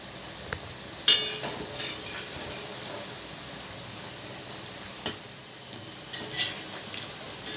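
Pointed gourd fritters (potol piyaji) frying in a pan on a gas stove give a soft, steady sizzle, joined by a few sharp utensil clinks near the start and end.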